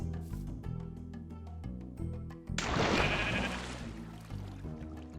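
Two sheep bleat in a Minecraft-style video game village over steady background music, the bleats loud and close, with a louder burst of game noise midway.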